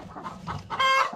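A free-range chicken clucks a few quick, close notes, ending in a sharper, drawn-out squawk.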